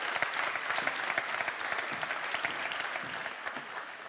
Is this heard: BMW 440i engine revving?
no